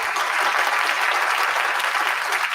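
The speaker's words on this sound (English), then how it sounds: "I just got to go ahead and applaud that." Applause, a dense, even patter of many hands clapping that holds steady for a few seconds with no voices over it.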